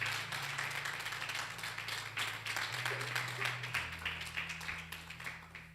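A church congregation applauds during a sermon, a dense continuous patter of clapping heard at a distance over a steady low hum.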